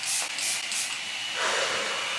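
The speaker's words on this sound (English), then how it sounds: "I'm also gonna spray my face in the meantime because I want this makeup to really pretty much last me like the whole time we're out" Makeup Revolution Super Fix Super Hold misting spray sprayed onto a face, several loud close hissing puffs in quick succession followed by a longer spray.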